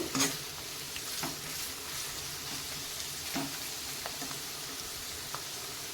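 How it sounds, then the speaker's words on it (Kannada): Long-cut carrots and other vegetables frying in oil, a continuous close sizzle with occasional utensil scrapes and taps as they are stirred. "ಎಣ್ಣೆಯಲ್ಲಿ ಎಲ್ಲವನ್ನು ಚೆನ್ನಾಗಿ ನಾವು ಫ್ರೈ ಮಾಡ್ಕೋಬೇಕು"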